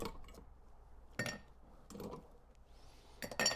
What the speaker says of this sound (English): We're going to start by loading the mixing glass with some ice.